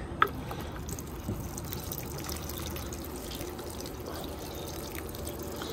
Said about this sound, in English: then we're gonna water it into the plant